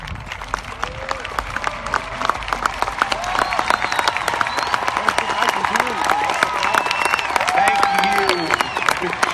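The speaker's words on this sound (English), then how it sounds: "ask them, the ones who are going into the armed services, to please stand for a round of applause" A graduating class of 2015 audience at a Clifton ceremony applauds students entering the armed services: dense, steady clapping with scattered cheers, sustained and fairly loud throughout, with voices mixed in.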